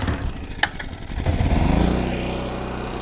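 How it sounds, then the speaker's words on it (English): An old portable generator engine is pulled into life with a few uneven initial chugs, then settles into a steady, loud running drone that fills the rest of the clip, with no one speaking. "I've hooked the frequency meter up to my trusty old generator, and let's start it"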